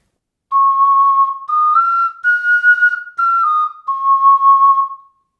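Ocarina played with too little breath: a series of five sustained, slightly airy notes rising in pitch then falling back, each separated by short gaps, close and clear, with no talking.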